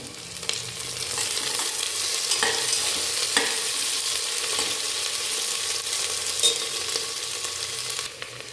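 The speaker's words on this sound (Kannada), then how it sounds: "ಈರುಳ್ಳಿ ಮಗ್ಗಿದೆ, ಇದಕ್ಕೆ ಸ್ವೀಟ್ ಕಾರ್ನ್ ಹಾಕ್ಕೊಳ್ತಾ ಇದ್ದೀನಿ" Sweet corn tipped into salted, sautéed onions in a pan for a sweet corn palak kichdi gives off a steady frying hiss, with a few sharp spoon scrapes and stirs breaking through and no voices.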